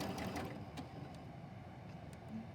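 Sewing machine stitching two layers of quilt fabric along the raw edges, with a steady, fairly quiet mechanical whir running throughout and no voices.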